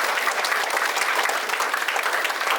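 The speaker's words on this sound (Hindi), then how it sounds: "आइए हम ताली मारते हुए उनका हमारे बीच में स्वागत करें।" A church congregation claps steadily to welcome a Catholic bishop, with dense, even applause filling the room throughout.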